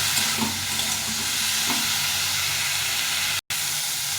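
Cauliflower frying in a pan while being stirred, a steady close sizzle with a couple of scraping strokes, cut off abruptly for an instant near the end before resuming.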